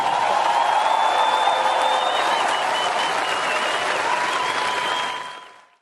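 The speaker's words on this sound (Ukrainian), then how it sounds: "саме його зустрічали великими оплесками та оваціями" Sustained, dense applause and ovation from a large audience at the NATO summit in Vilnius, steady and loud before fading out over the last second.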